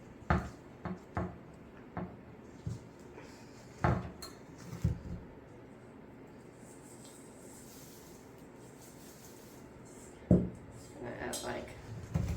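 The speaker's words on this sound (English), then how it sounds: "Just gonna scrape down the sides here a little bit." A spatula scraping down the sides of a mixing bowl of bread or cookie dough, a handful of soft knocks and scrapes in short bursts with quieter gaps, close and moderately loud.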